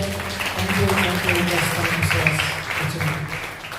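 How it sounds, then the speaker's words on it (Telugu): A church congregation applauds with sustained, dense clapping that fills the whole stretch, fairly loud and even, with voices mixed in underneath. "అందరం చప్పట్లు కొడదాం."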